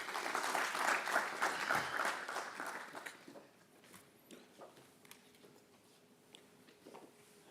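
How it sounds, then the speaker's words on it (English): An audience at an international cancer conference applauds as a speaker comes to the stage. The clapping is dense but moderately faint, fades after about three seconds, and leaves scattered footsteps and light taps. "Can we give a round of applause?"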